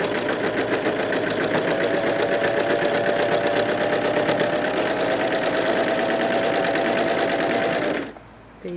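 Pfaff Coverlock 3.0 overlocker stitching a 4-thread seam, a fast steady mechanical whir and rapid clatter running loud and continuous for about eight seconds, then stopping abruptly.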